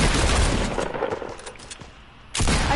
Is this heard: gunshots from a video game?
yes